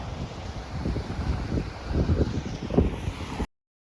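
Strong wind roars and buffets the microphone during a snowstorm in Canada, a steady gusty rumble with no talk, cutting off abruptly near the end.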